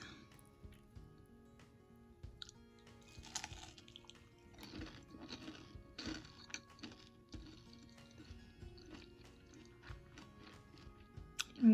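Crisp crunching of fried bang bang shrimp being chewed close to the mic, with irregular quiet crackles and clicks over several seconds and a sharper bite at the end.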